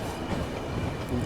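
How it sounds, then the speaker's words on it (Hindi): Train rumbling at Hazrat Nizamuddin railway station in Delhi, a steady broadband rail noise with low rolling texture throughout, no distinct clacks standing out. "हजरत निजामुद्दीन रेलवे स्टेशन काफ़ी बड़ा रेलवे स्टेशन है ये"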